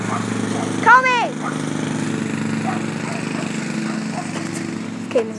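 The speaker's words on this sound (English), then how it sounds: "we have somebody mowing here" A lawn mower runs steadily nearby in a backyard, a continuous engine drone under the whole stretch, with brief shouts and voices breaking in over it.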